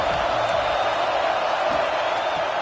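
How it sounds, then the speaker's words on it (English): Big football stadium crowd roaring on third down at Penn State, a dense, continuous wall of cheering and noise that holds steady throughout. "Here comes the noise from this big crowd in Happy Valley on 3rd down."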